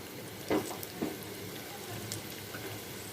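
Vermicelli (semai) fried in ghee with cinnamon, cardamom and bay leaf in a pan over very low heat, giving a faint, steady sizzle with a couple of soft stirring clinks near the start.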